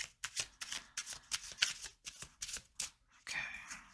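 Oracle cards being shuffled by hand, a quick series of crisp riffling bursts in uneven rhythm, close and quiet, ending in a longer flutter.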